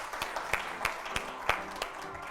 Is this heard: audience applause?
yes